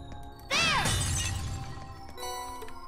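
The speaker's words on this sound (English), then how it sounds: "if I ever get stuck, I can just keep smashing pots and get Terra Bombs" A clay pot smashed in the video game Trails of Cold Steel: a sharp ceramic shatter with a ringing, glassy sweep, followed by scattered tinkling debris and a softer clink of game chimes.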